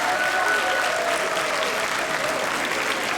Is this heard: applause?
yes